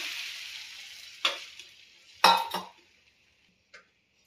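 Omelette and bread frying in butter on a hot pan, a soft sizzle fading out as a utensil clinks against the pan twice, then near silence with one last small tap.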